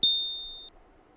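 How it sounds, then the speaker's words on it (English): A single clean electronic beep rings out at a high pitch for just over half a second, then cuts off into near silence. "When you hear the beep, follow me to channel 22."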